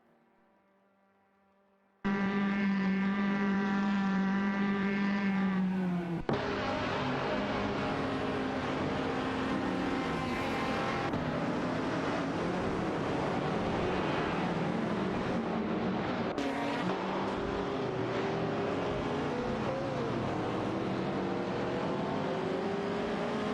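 Race cars in an AI racing game, engines droning and revving loud and continuous after a short quiet opening, with shifting pitch as the cars pass and change gear.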